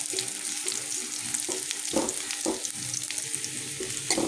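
Onions frying in a pan, a steady close sizzle broken by a few soft stirring scrapes, with no talk.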